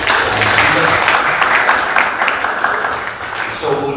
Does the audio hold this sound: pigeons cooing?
no